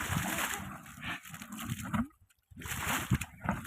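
Water from a motor pump pours into a farm field, sloshing and splashing close by in uneven surges, briefly dropping away before rushing on again.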